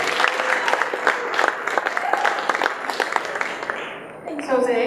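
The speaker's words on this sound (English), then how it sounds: "how about a round of applause for Sanu?" An audience claps steadily for about four seconds to welcome a new judge at a 2015 Shark Tank event in San Francisco, then the applause thins into a brief murmur.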